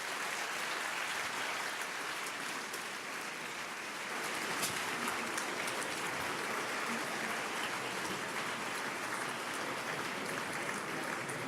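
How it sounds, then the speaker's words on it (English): Steady, rain-like applause from a large conference audience filling a hall, continuous and fairly distant, with no clear individual claps standing out. "Please, a hand of applause."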